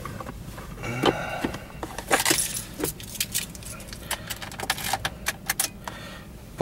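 Keys to a 2002-2005 Mazda MX-5 Miata jangle close by inside the car, irregular metallic clinks and rattles in short bursts.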